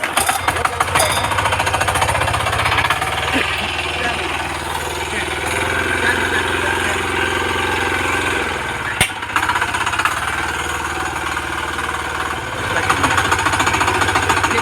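A nursery seed machine's engine runs after starting, a loud, close, rapid hammering chug that holds steady for the whole stretch, with a brief knock midway and no clear talk.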